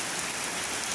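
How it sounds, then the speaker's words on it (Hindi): Heavy stormy rain pours down in Italy after hot days, a dense, loud, unbroken hiss of drops striking surfaces close by, with no voices. "यहाँ पे कितनी तेज़ बारिश हो रही है"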